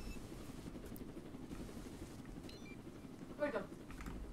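Helicopter in the Roblox video game: a steady, low rotor drone runs throughout at moderate loudness, with a brief louder burst near the end.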